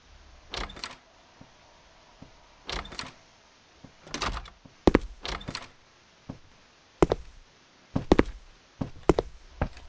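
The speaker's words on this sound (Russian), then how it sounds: "как только услышу, что Момо хлопает дверьми" Loud thuds and bangs of doors slamming in the horror video game Momo, in bursts, some in quick doubles, separated by quiet stretches with no talking.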